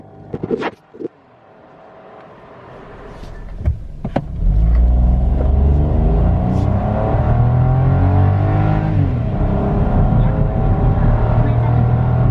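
A new Kia Morning city car's engine while driving, heard from inside the cabin: a few clunks, then a steady low drone rising as the car picks up speed and holding at a moderate, even level.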